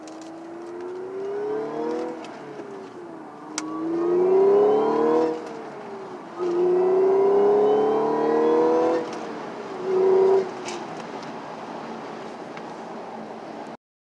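A Stage 2 tuned Audi S4 B8.5 accelerates hard with the windows up, heard from inside the cabin: the engine climbs in pitch through several gears in repeated pulls, with brief drops at each shift, loud and close.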